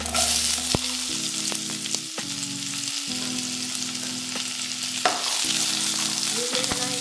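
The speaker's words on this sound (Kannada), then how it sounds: "ಈರುಳ್ಳಿ ಚೆನ್ನಾಗಿ ಫ್ರೈ ಆಗಬೇಕು" Onion frying in hot oil with garlic and curry leaves, a dense, steady sizzle close up, with brief scraping stirs breaking through now and then.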